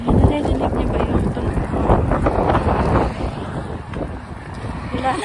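Cold winter wind in the mountains of Japan buffets the microphone with steady, loud rumbling gusts throughout, while a person talks now and then underneath.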